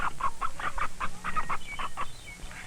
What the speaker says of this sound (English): Sometimes we feed corn to chickens.